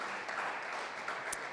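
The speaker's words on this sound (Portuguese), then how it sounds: "você pode aplaudir esse Deus maravilhoso?" Congregation at a Portuguese-language worship service clapping, a brief continuous wash of many hands applauding at moderate volume.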